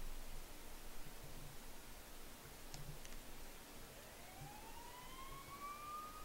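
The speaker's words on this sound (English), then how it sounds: "You hear sirens nearby." A faint siren from the video game Persona 4 wails up in the distance over steady hiss, rising slowly toward the end.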